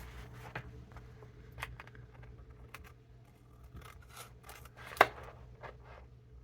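Paper gets a rounded corner cut while assembling a glue-book journal: quiet, soft snipping and rubbing, then one sharp crisp snap near the end, all close and without talk.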